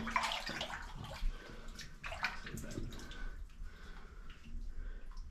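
Boots wading through shallow water in an underground gold mine tunnel, with soft sloshing and splashing steps in an enclosed, echoing space, fairly quiet and continuous.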